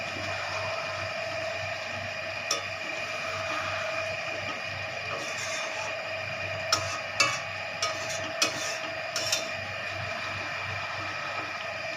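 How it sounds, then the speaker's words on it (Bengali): A fish curry (jhal) stirred slowly in a pan: a steady low simmering hiss with a few light scattered clicks and scrapes from the utensil. "এইরকমভাবে আমি আস্তে আস্তে একটু নেড়ে দেব।"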